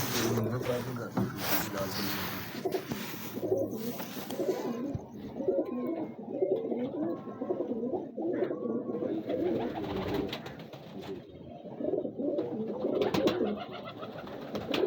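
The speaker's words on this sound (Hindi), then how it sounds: "आपको ये भाई ने कबूतर पकड़ा हुआ है" A held pigeon, a large male, coos in low repeated murmurs close by, with a voice talking over much of it and outdoor background noise.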